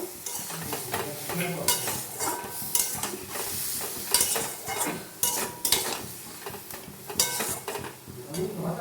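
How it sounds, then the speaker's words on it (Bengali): Vegetables for Bengali poppy seed fritters (posto bora) being stirred and sautéed in a pan, with a steady sizzle, frequent scraping clinks of a spatula against metal and rhythmic stirring, close and fairly loud, no talking. "একটু এইভাবে কষিয়ে নেব"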